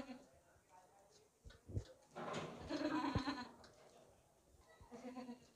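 Goats at a livestock market bleat in several short bursts amid crowd noise and nearby talking, with a louder, longer cry in the middle of the stretch.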